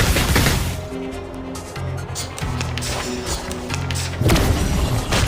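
A gunfire barrage in the game Reverse: 1999 hits in heavy, rapid bursts, with a few pauses between clusters of punchy blasts over low rumbling hits.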